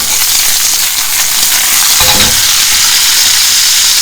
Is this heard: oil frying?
yes